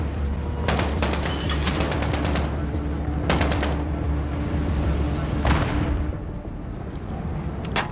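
Rapid bursts of video game gunfire in a campaign mission, loud sharp cracks and repeated automatic fire at steady intervals, with a voice talking over the shooting.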